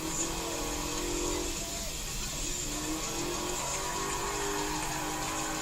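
A car engine in Forza Horizon 3 runs at full throttle, a steady dense roar with gradual rising and falling pitch across several seconds, no voices on top.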